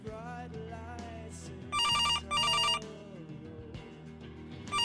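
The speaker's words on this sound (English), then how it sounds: "The phone rings." A telephone rings in two loud, even bursts separated by a short gap, standing out over soft background music.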